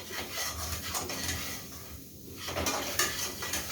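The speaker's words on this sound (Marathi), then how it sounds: "खमंग अशी भाजून घ्यायची फ्राय करून, म्हणजे असं परतून" A spatula scrapes and stirs a green chilli, ginger and garlic masala paste as it is sautéed in a pan, giving a steady close scraping and rubbing texture that briefly eases off and then resumes.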